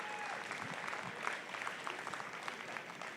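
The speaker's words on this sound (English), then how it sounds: "let's give them one big cheer" An audience at a farm show pitch event applauds, a dense, steady patter of clapping heard at a distance, faint and continuous throughout.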